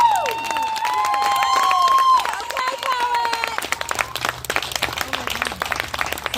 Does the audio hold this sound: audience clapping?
yes